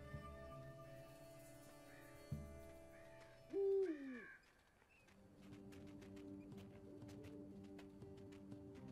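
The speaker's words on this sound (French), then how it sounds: "Attention, hibou." An owl hoots in the game Endling: Extinction Is Forever, a single clear, loud descending call rising over a quiet ambient bed of soft tones, with faint game sounds continuing afterward.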